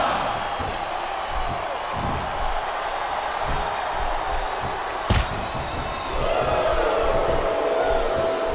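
A capacity crowd at a WWE wrestling arena roars and cheers in a steady, dense wash of noise. A sharp slam cuts through near the middle, and the cheering swells louder toward the end.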